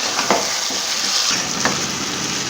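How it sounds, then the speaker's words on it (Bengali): Yogurt-marinated chicken frying and being stirred in a pan, a constant close hiss of oil with a few soft scrapes of the spoon moving through, no talking. "দিয়ে ভালো করে নাড়াচাড়া করে নেব।"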